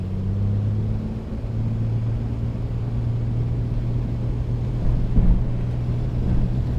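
A2A Piper Comanche engine in a flight simulator on a grass strip at takeoff: a steady, loud, droning propeller engine hum with a constant low tone, rumbling on without pause and swelling slightly near the end.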